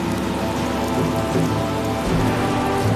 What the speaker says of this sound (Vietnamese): trời mưa rồi